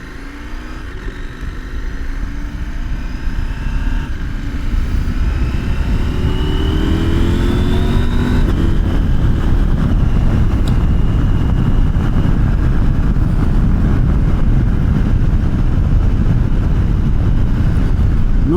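KTM 790 Adventure Rally motorcycle accelerating onto a highway, engine note rising through the gears before settling into a loud, steady roar of engine and wind rush at cruising speed.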